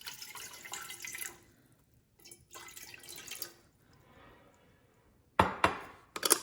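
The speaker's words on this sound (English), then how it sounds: "So I actually start putting a little bit of water first." Water pours into a pot on the stove in a few splashing bursts separated by pauses, ending with louder, sharper splashes and clinks nearby.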